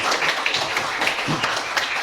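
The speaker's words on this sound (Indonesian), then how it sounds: "tepuk tangan untuk kita semua" A classroom of fifth-grade pupils claps hands together in a brief burst of applause, dense and fairly loud, with faint voices mixed in.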